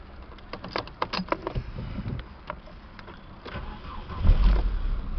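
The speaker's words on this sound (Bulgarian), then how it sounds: "Колата пали и работи отлично." An Opel Vectra with about 130,000 km cranks with a few quick starter clicks, then its engine fires and settles into a steady idle, recorded up close.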